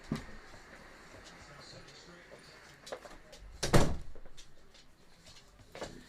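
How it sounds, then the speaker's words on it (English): A door closes with one solid thunk midway, heard close against quiet room tone, with faint talk around it. "let me close my door because Luna just came in."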